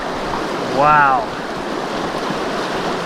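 Rushing river water at the bottom of Black Canyon, a constant roaring wash close to the microphone, with a person briefly exclaiming over it.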